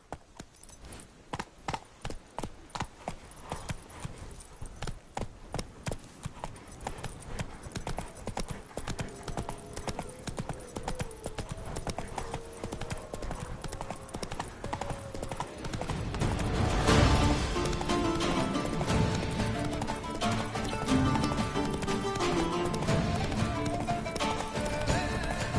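The horse Roach trots in The Witcher 3, a steady close clip-clop of hooves that quickens and thickens as the pace picks up and game ambience rises behind it.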